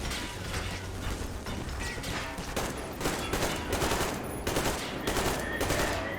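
Gunfire in the shooter video game Metro Exodus: a dense, continuous rattle of rapid mechanical shots with clicking weapon sounds, loud and close, lasting several seconds with no talk.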